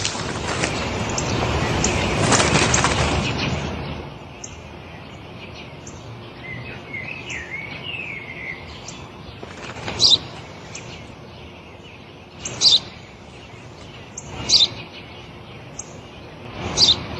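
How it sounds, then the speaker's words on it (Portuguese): Outdoors, a sparrow gives sharp, clear chirps, spaced a couple of seconds apart, after a stretch of broad rushing noise at the start. A faint warbling bird call sounds in the middle, over a low steady background. "Eu já disse, pai. É um pardal."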